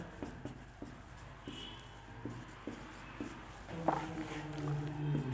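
Chalk or a marker writes an equation on a board during a lecture on the Hermite differential equation. It makes faint, close, rhythmic tapping and scratching strokes, with a quiet room behind them.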